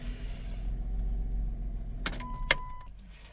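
A 2000 Chrysler Grand Voyager SE with a seized alternator idles with a low rumble, then the engine cuts off and goes quiet, followed by a couple of sharp clicks and a brief faint tone.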